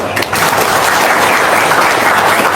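A seminar audience bursts into loud, close, continuous clapping that stays dense and even from start to finish.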